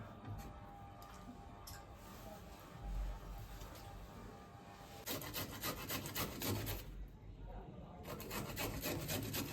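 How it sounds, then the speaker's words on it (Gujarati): Carrots scraped back and forth across a hand grater for carrot halwa, a steady rasping rhythm close up, pausing briefly around the middle before resuming, with no talk over it. "આવી રીતે જો ગાજરા છીણવાનું ચાલુ છે"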